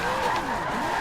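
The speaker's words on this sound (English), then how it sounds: "So let's say I want to kick the ass end out." Video game car drifting with the rear end sliding out, tires squealing and skidding over a steady engine drone, loud and continuous throughout.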